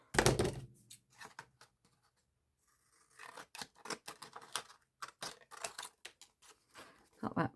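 Sharp crisp snips of scissors cutting paper, close up, in irregular bursts after a brief quiet pause.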